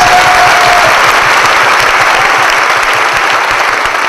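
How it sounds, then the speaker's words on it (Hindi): Loud, close audience applause rings out at a Diwali gathering. The clapping is dense and continuous and holds at full strength for several seconds. "एक जोरदार ताली बजा दीजिए प्लीज"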